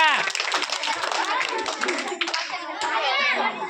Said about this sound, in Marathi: टाळ्या वाजवा आर्यासाठी